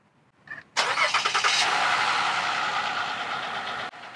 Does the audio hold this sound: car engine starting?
yes